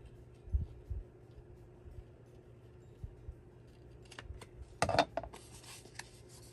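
Scissors cut thick Masterboard paper with a few faint snips and crunchy bursts close by in a quiet room, sparse at first, then a short cluster of cuts.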